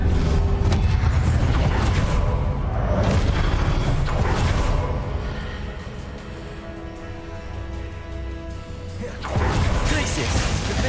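Confringo explosive spell cast in Hogwarts Legacy, with heavy booming blasts and crashing impacts at the start, a quieter stretch of rumbling magical effects, then another loud burst near the end, layered with game music.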